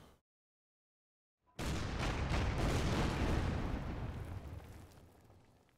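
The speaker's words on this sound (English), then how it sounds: "As the Schleswig getting pounded by enemy torpedoes." Torpedoes striking the ship Schleswig in Order of Battle: Kriegsmarine, a sudden heavy explosion after brief silence, swelling into a long rumbling roar that slowly fades, with no voices.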